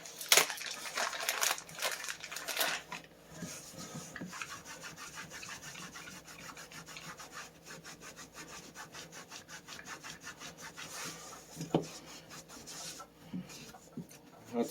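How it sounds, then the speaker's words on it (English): Close rubbing and scrubbing as a silicone cloth wipes the base pad of a Sig Sauer M18 pistol, a steady, slightly rough friction sound with small bumps and handling noises and no talking. "I'm going to clean my base pad with the same silicone cloth."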